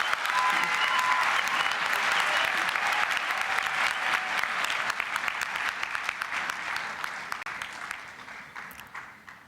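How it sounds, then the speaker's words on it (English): Sustained applause from a large audience at a university spring graduation ceremony, steady dense clapping that gradually thins and fades toward the end. "Let's give another round of applause."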